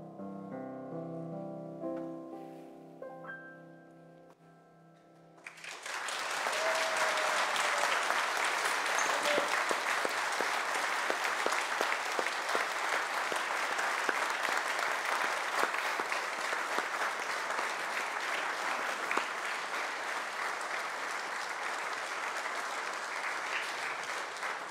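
A congregation at a requiem Mass bursts into sustained applause after signing and singing, steady dense clapping filling the church for about twenty seconds after a short stretch of quiet music.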